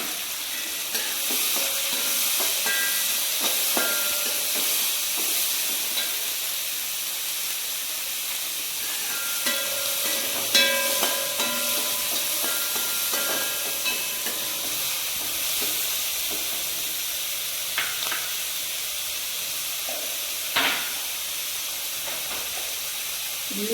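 Two chopped onions fry in a hot pan for aval poha, giving a steady, close hiss and sizzle with faint scattered clinks and stirring throughout.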